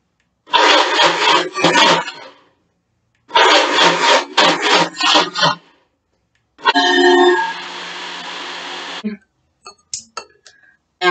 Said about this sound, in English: Add everything into blender. I'm just going to blend.